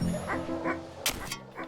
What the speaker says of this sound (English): That is a chicken dog. But he barks.